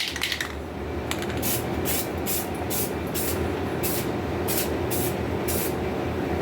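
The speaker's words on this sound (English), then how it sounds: "I'm just gonna hit it with paint." A spray can coats a scuffed rear-end part of a barn-find Yamaha Virago motorcycle in a garage, giving a series of short close hissing bursts over a steady background rumble.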